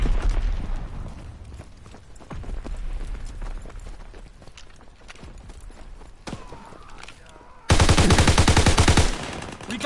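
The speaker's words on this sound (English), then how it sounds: "Sending mortar rounds." Mortar rounds and gunfire in Call of Duty WWII, bursts of rapid crackling shots and thuds that thin out midway, then a loud, dense blast of impacts near the end.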